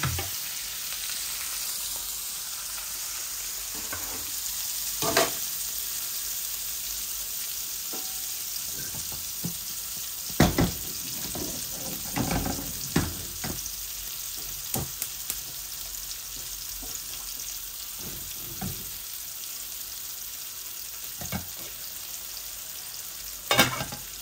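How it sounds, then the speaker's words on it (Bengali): Steady oily sizzle of onions frying in a pan, with occasional sharper crackles and stirring scrapes rising above the continuous hiss. "আর একটু পেঁয়াজ ভাজা ভাজা হোক"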